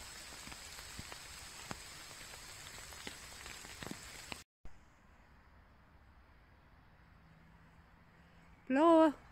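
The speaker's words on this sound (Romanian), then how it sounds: "Plouă cu soare." Light rain patters on a hillside near Brașov, soft scattered drops tapping the surface before a short break, then faint rain continuing as a brief sung or chirpy voice rises near the end.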